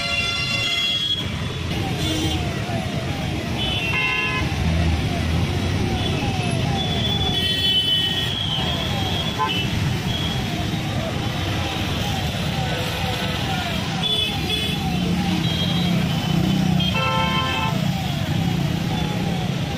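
Heavy road traffic at Pari Chowk in Greater Noida: a continuous roar of cars and motorbikes with repeated horn toots and beeps scattered throughout, steady and loud for the whole stretch.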